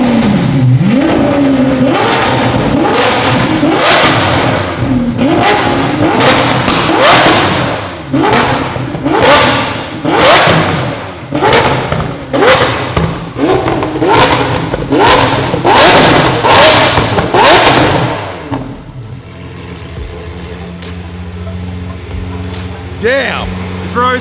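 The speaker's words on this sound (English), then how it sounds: "Now he's going to rev it." A new Ferrari sports car, freshly warmed up, revs its engine in a long series of sharp, loud rises and drops, each rev punching out rhythmically before settling to a quieter idle, with people's voices mixed in.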